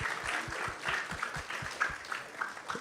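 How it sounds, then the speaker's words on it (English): Audience at an evening Krishna Katha gathering applauds, with sparse, loosely rhythmic claps from a modest crowd mixed with a soft chanting or murmuring voice, fairly quiet and close. "So let's give a big round of applause to everyone who has joined us tonight."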